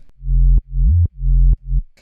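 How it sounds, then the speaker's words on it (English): Deep, smooth sine wave sub bass notes for a future rave drop, four short sustained tones with slight pitch glides between them, low and rounded with soft clicks at the edges. "Here I have a sub, a simple sine wave basically with these notes and a little bit of glide"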